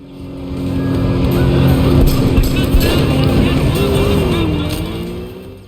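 A car chase with pursuing police in the video game Sleeping Dogs: loud engines roar past, swelling then fading, with tyres squealing and skidding amid the racing, and a voice briefly talks over it.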